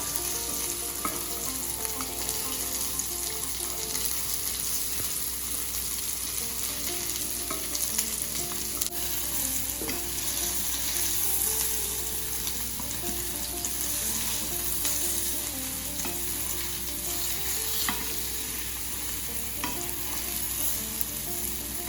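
Crab cakes frying in oil in a pan give off a loud, continuous sizzle with a fine crackle that holds steady throughout, with no voices over it.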